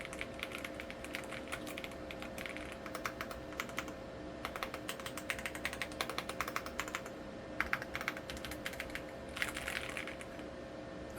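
Steady, fairly fast typing on a Yunzii AL65 mechanical keyboard, a dense run of resonant key clacks with short bursts of quicker strokes, heard close and alone with no talking.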